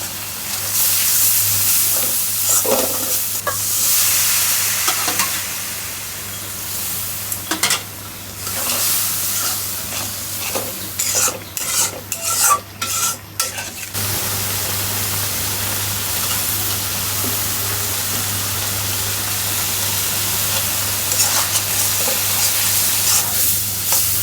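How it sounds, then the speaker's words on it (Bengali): Onion frying in hot oil in a pan, a steady sizzle with bursts of stirring scrapes and clinks partway through, then settling back into a continuous even hiss. "এই দেখেন পেঁয়াজটা মাঝে ভাজে নিচ্ছি"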